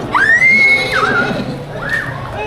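A horse whinnies loudly and close by, a rising squeal that falls away, followed by a second, shorter neigh.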